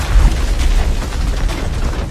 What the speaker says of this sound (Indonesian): Atlas pun terpaksa menggunakan bom ion yang seketika bisa menghancurkan para musuh di sekitarnya.